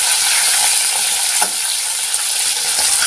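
Fish fries in a pan for a village-style fish curry with greens, potato, plantain and drumsticks, a steady close, loud hiss of hot oil throughout, broken by a few faint clicks, with no talking.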